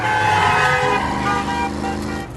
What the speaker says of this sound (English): He drives off in his super cool muscle car